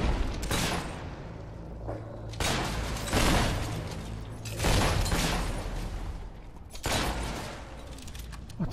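Gunfire in the video game Fable 3 comes as several loud bursts of shots spread across the clip, each trailing into a rumbling decay, with no talk over them.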